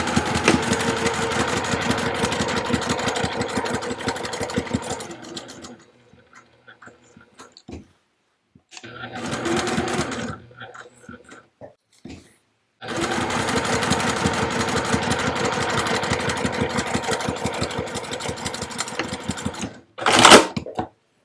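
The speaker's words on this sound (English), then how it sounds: "Alright, so I've stitched up, across, and back down." A sewing machine stitches fabric for a small zip-around wallet in fast rhythmic runs, loud and close, with a pause in the middle broken by short bursts before stitching resumes. A brief clatter comes near the end.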